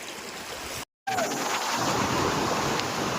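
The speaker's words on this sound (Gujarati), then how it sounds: "તમે જોઈ શકો છો આ વોટરફોલની મજા" A waterfall at Khuniya Mahadev in Pavagadh, in light rain, sends up a loud, steady broadband roar. A brief dropout comes just before the one-second mark, and the continuous rush then resumes unbroken.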